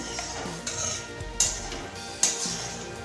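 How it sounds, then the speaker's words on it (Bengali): Drumstick flowers being stirred in a pan for a Bengali chorchori, with a few soft scraping strokes and three sharp metallic clinks of the spoon against the pan, close and fairly quiet. "ভালো করে নাড়াচাড়া দিয়ে নেব আমরা সজনে ফুলগুলোকে যাতে নিচে লেগে না যায়"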